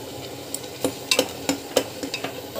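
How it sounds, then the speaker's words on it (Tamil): Ingredients sauté in a pan with a soft continuous sizzle, and a spatula clicks and scrapes against the metal in quick irregular stirring strokes, close and clear with no talking. "பச்சை வாசம் போகிற வரைக்கும் வதக்கலாம்"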